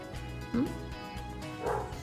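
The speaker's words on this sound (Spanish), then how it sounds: "Hay un perro que ladra ahí debajo" A dog barks below an open bathroom window, giving two faint, distant barks over a steady background hum.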